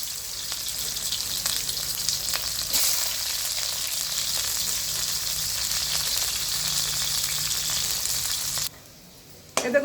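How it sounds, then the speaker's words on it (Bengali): Slices of bitter gourd fry in hot oil with a steady, dense sizzle and a few faint stirring clicks, running continuously until the sizzle drops away abruptly near the end, then a brief scrape. "এবার আমি করলাগুলোকে ভেজে নেব।"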